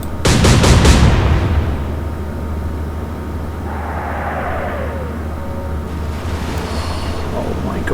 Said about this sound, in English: it's only the rear turrets that are firing now